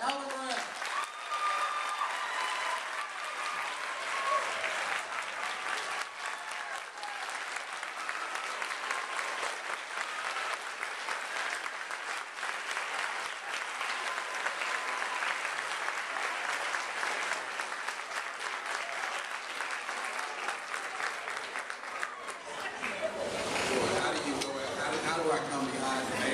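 Sustained audience applause fills an event hall in Jacksonville, Florida as Alvin Brown is welcomed, steady clapping for over twenty seconds before tapering off near the end.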